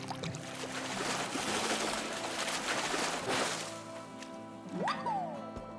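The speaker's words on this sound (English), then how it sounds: "you're just listening for the special water kerplunk sound that only happens when the fish bites" Animal Crossing New Horizons fishing: a steady watery ambience with soft splashes, then a short bright kerplunk as a fish bites the bobber near the end, alone with no talk.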